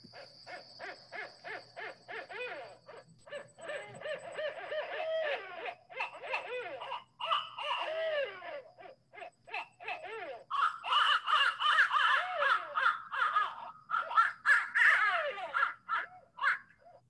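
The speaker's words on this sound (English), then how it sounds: "not enough people were surprised by all these owl sounds" Recorded owl calls played back over a speaker: harsh, repeated caw-like hoots and wailing cries, rising into a dense, agitated chorus toward the end, moderately loud with faint talk beneath.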